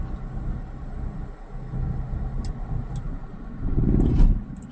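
Low engine rumble from a learner's car as the clutch is eased out, rising into a louder, fuller drone near the end as the car begins to move, recorded from inside the cabin.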